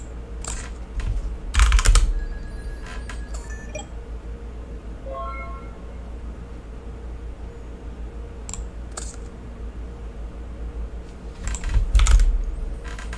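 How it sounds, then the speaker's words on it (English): Typing on a computer keyboard while playing an online Yu-Gi-Oh card game, with scattered close key clicks and two louder bursts of rapid keystrokes over a low background hum, and a faint cat meow in between. "so that's why I'm typing these in."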